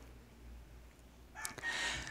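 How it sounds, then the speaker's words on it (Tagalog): A rooster crows loudly near the end after a stretch of low background hum, its call rising sharply then holding. "Pagpasensya nyo na yung mga naririnig yung mga manok"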